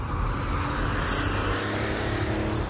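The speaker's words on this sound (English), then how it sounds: "listening to the cackle of that wonderful air-cooled six-cylinder engine" An air-cooled six-cylinder engine in a thirty-year-old car runs with a steady, loud, close roar throughout, with no voices.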